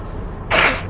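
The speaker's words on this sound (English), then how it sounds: "There's the sneeze." A single short, sharp sneeze bursts out inside a car after a moment of quiet cabin hum.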